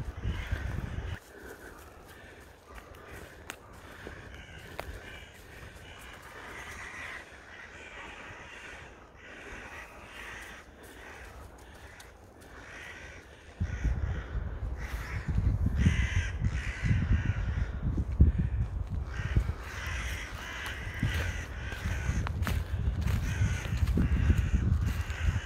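Crows caw harshly while mobbing an owl in a forest, many repeated calls at varying distances that grow louder and more crowded partway through, joined by rustling and wind noise.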